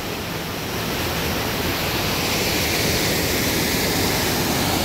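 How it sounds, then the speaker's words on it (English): The Upper Whychus Creek falls near Sisters, Oregon, pour with a loud, continuous rushing roar that stays steady from start to finish, with no voices. "Got another waterfall up ahead."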